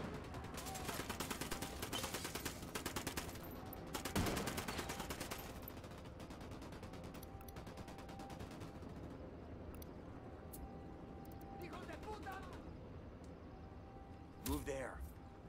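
Gunfire in Ghost Recon Wildlands rattles through a continuous busy battle mix, with sustained bursts and a few sharper shots, while voices and radio chatter talk over it.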